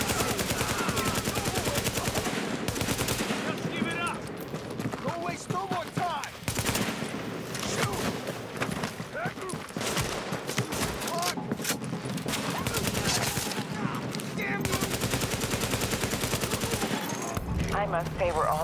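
Dense gunfire in the video game Tom Clancy's The Division, with rapid overlapping bursts and volleys that continue without a break, mixed with game voices.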